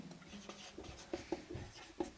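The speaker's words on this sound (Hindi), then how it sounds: "यहीं पे लिख लेते हैं, आंशिक रूप से" A pen scratches and taps faintly across paper or a board while notes are written during a class, soft irregular strokes in a quiet room.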